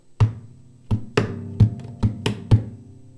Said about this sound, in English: Followed by another slap, then another thump, so like this